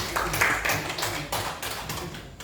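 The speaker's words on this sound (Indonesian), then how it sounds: "Tepuk tangan untuk si Dina." Classroom applause for a student named Dina during a teacher-training performance exam at UIN Sultan Syarif Kasim Riau: a brisk burst of clapping from a small group, close by and steady for a couple of seconds, fading slightly at the end.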